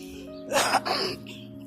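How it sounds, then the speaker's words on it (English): A single short throat-clearing cough, close and abrupt, during a walk, rising out of quiet and fading within a second. "I'm going to start coughing and it's going to be bad news."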